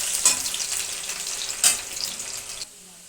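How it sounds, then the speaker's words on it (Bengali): Onions frying in hot oil with whole cumin give a bright, close, continuous sizzle, swelling in two brief bursts as they are stirred, then cutting off abruptly near the end. "পেঁয়াজটা লাল হওয়া পর্যন্ত ভাজবো।"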